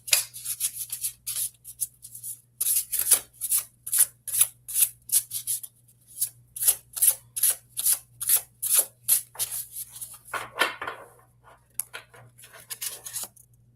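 Cards being shuffled by hand during a card reading: quick rhythmic bursts of papery riffling and rubbing, repeated many times at close range in an otherwise quiet room, with no talking.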